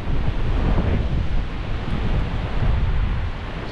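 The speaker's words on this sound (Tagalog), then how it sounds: "Lakas po ng hangin." Strong outdoor wind buffeting the microphone in a continuous loud, low roar with slight surges, steady throughout and with no speech.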